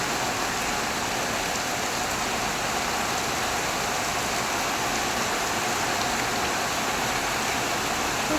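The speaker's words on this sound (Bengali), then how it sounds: "জোর বৃষ্টি হচ্ছে" Heavy rain pours down steadily, a dense continuous hiss with no pauses or voices.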